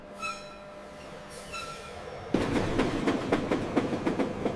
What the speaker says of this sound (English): The abandoned and damaged Thomas train moves again with full restoration.